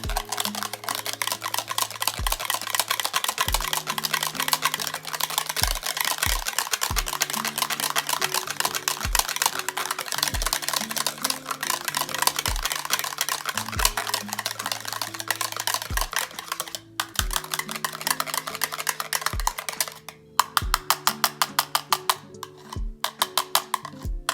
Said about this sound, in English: I'm going to take this whisk right here and I'm going to mix my color